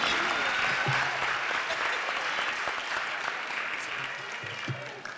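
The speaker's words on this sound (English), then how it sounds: "let's give all of our honor graduates a rounding applause" Sustained audience applause for honor graduates at a winter commencement ceremony, a steady wash of clapping lasting throughout at moderate level, with faint low voices underneath.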